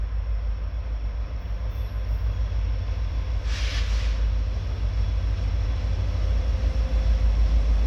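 A mixed freight train led by two SD40-3 locomotives rolls past, a loud continuous rumble of wheels and cars with a brief higher hiss midway, no voices.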